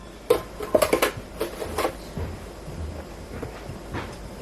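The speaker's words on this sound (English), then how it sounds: "We're going to add 10 cups of sugar." Sugar poured into a pot for a double batch of pepper jelly: a few sharp close clinks and clatters of the container against the pot, then a soft trickling rustle that fades.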